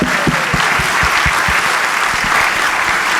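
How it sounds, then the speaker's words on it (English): Loud, dense applause from an audience honoring novelist Alice McDermott at a reading, steady claps throughout with a few sharp individual hand claps standing out. "Let's applaud the sheer contrariness of her ambitions."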